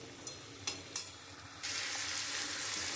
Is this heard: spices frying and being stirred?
yes